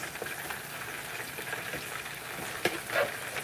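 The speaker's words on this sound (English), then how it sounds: "the day I'm frying stuff." Quiet, steady sizzling of food frying in a pan, with a few faint clinks and stirring sounds near the end.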